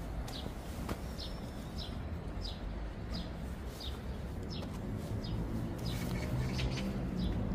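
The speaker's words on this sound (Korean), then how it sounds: "가을에 그 산책길에서 귀에 들리는 이 청각적인 즐거움을 주는 이 새소리도" Small birds sing along an autumn walking path, giving a string of bright, evenly spaced chirps over a soft, continuous outdoor wash.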